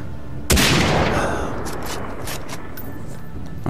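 A sudden, loud gunshot in Far Cry 3, fired at long range, bursts out and trails into a long, rumbling decay.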